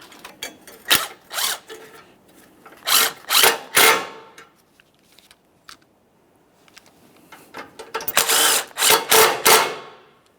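A ratchet or small power tool tightens 10mm-headed radiator mounting bolts on a 2009-2014 Nissan Maxima 3.5L V6, coming as several separate short bursts of clicking and whirring with quiet pauses between them, close by and with no voices.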